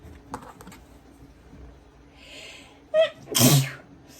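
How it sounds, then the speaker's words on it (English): A single loud, sharp sneeze bursts out near the end, close to the microphone, after a few quiet clicks and light rustling in a room. "I need to sneeze."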